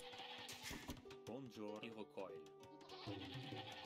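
Goats bleat in the video game Age of Empires II, giving several wavering calls one after another while someone talks over them.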